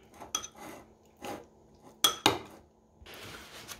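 Mayonnaise being mixed in a Compact Cook Platinum kitchen appliance, heard as a few sharp clinks and knocks of a utensil against the bowl between quiet gaps, followed by a soft rustling scrape at the end.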